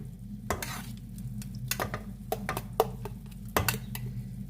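A spoon stirs and scrapes through tamarind pulp and spices roasting in a pan, with clattering knocks against the metal over a steady low sizzle, close and busy throughout.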